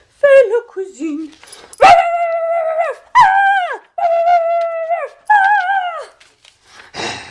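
A dog yelps and barks in a series of loud, close, drawn-out cries in an old French comedy scene, each lasting about a second with short gaps.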